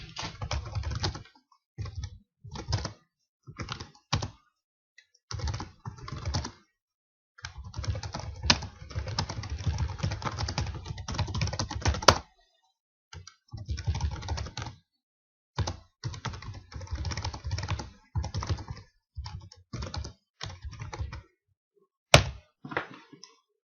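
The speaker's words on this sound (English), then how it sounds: "So I'm just going to go ahead and start typing some stuff into here." Fingers tap out bursts of typing on a computer keyboard, rapid clicking runs close to the mic broken by short silent pauses and a few heavier thunks of keys struck hard.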